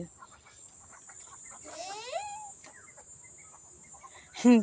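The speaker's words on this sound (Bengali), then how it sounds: "এই যে পুকুরে হাঁস এসছে" Ducks call at a village pond: scattered faint quacks and squawks at a distance, ending in one louder, closer call, with a voice murmuring faintly at times.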